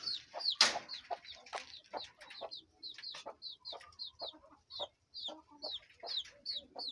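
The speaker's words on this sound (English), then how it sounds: "And I have the chickens up there." Chickens on a small urban farm in Kampala, Uganda cluck in a steady, overlapping chatter, with one loud close squawk early on and repeated rising calls continuing throughout.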